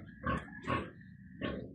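Unweaned piglets grunting and oinking during a bath, with three short, close squealing grunts spaced about half a second apart.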